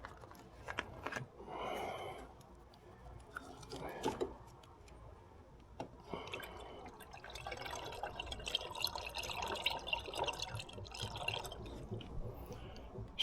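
Coolant and then water poured into a car's cooling system during a thermostat replacement, a soft uneven splash and trickle of liquid running for several seconds at close range amid light handling noise.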